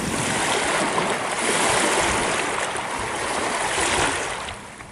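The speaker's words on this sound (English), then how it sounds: "The sound of water with a beautiful backdrop like this, the perfect place to soothe the mind and soul." Water rushing steadily along a roadside river or stream, a loud, continuous broadband wash with no break, close by and heard alone.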